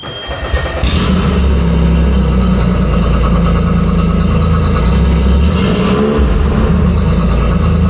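Gasoline engine on an abandoned boat under restoration, running steadily after a brief start: a loud, close, continuous mid-pitched drone with a slight swell in revs partway through, no speech.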